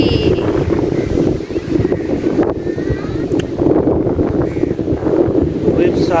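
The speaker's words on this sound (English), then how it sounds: "It's windy." Strong wind buffets the microphone at a beach, a steady low roar of gusts that runs the whole time, with the wash of surf underneath and people talking faintly at moments.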